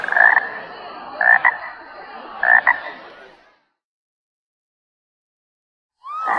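Toad croaking as a sound effect in an audiobook: three loud, close, raspy croaks at a steady pace, then silence before another croak begins.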